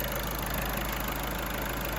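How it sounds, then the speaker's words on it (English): Steady idle of a VW/Audi/Skoda car engine after oil cooler replacement, a constant low mechanical hum with a faint high whine, close and unvarying throughout, no talking. "I have this thing idling here now."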